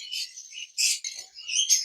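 Several small birds on a bird farm chirp and tweet in quick, high-pitched bursts, close by and fairly loud, with no talking.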